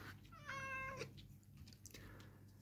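A cat meows once, a clear rising-and-falling call close by, heard alone over a low room hum with no talking.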